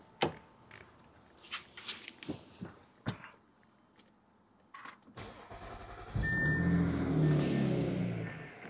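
A car in a repair shop clicks and clunks for a few seconds, then its engine cranks and catches, settling into a loud, steady idle close by.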